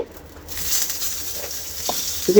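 Two bay leaves dropped into hot oil in a pan while cooking a ridge gourd and egg dish, a soft steady sizzle that swells slightly, with a few light clinks near the end.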